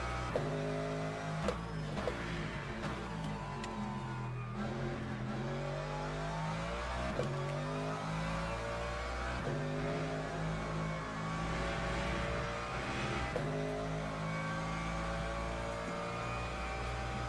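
In a sim racing game, an LMGT3 race car runs a lap at Algarve, its engine droning and climbing through gears, with repeated rising revs and brief drops at shifts, steady and prominent with no speech.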